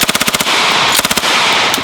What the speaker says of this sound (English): I'm going to shoot another magazine